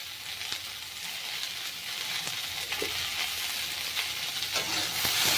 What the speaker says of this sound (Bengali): ফুলকপিটাকে খুব ভালো করে ভেজে নেব